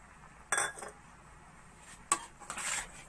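A spoon clinks against a pan as dry fruits are mixed into jaggery halwa: three or four sharp metallic knocks and scrapes, close and fairly soft, separated by quiet pauses.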